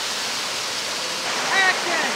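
A waterfall seen from about ten metres back roars as a steady, dense broadband wash, constant and fairly loud throughout, with a few faint higher sounds briefly rising over it.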